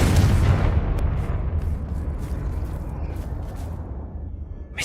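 A Confringo fire spell explodes in Hogwarts Legacy: a loud, deep blast that rolls into a long, fading rumble and crackle.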